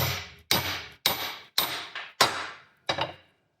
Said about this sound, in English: then we're going to tap on the top of the yoke ear